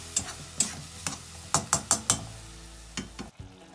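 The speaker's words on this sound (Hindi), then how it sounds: "मसालों को अच्छी तरह से भूनेंगे।" Spices being fried in a pan for pumpkin leaf curry, with a series of sharp stirring scrapes and clinks over a low sizzle, spaced irregularly and fairly quiet, ending in a brief pause.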